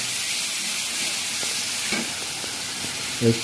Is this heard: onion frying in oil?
yes